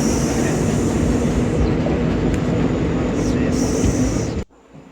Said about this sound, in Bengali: ট্যানেলের ভিতর দিয়ে চলেছে এই ট্রেন, আমাদের ঘ্যাস ঘ্যাস ঘ্যাস ঘ্যাস করে গিয়ে চলেছে।